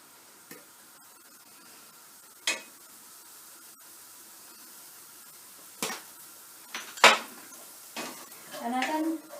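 Chopped sweet potato stirred in a pan with occasional scrapes and clinks of a utensil against the metal, a faint sizzle underneath, quiet and close with sparse irregular strokes.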